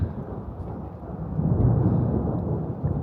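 Thunder rolls low and heavy during a storm over a garden, a deep rumble that swells midway and lingers with faint rain beneath, no voices.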